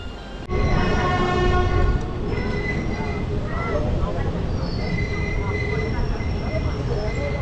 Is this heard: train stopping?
yes